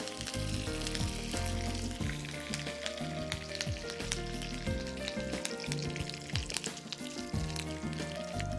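Curry leaves and fenugreek hit hot oil while a mango pickle is being made, giving a crackling frying hiss that runs under prominent background music.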